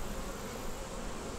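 Honey bees stream in and out past a queen cell in an open hive, a steady, dense buzzing drone that stays even and close throughout with no voices.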